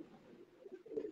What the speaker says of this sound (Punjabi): ਐ ਨੇ ਜੀ ਪਿਓਰ ਕਬੂਤਰ,